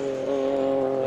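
A Silk Cut Jaguar sports prototype leads the field at the 1988 WEC round at Fuji, its engine roaring as a loud sustained tone with a steady pitch, heard briefly and up close.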